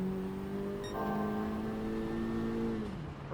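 2022 Honda Civic Type R in a sim racing game, engine note revving steadily, rising and then dropping off as the car speeds around the track, fairly quiet with no talking.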